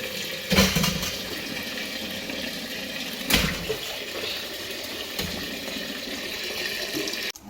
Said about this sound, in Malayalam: പുഴുങ്ങാൻ വേണ്ടി കപ്പ കഴുകിട്ടു